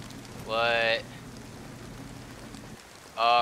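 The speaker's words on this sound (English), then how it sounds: "Oh, because of the rain." Rain falls in the video game DayZ, a steady soft hiss running throughout, with two short bursts of a voice speaking over it.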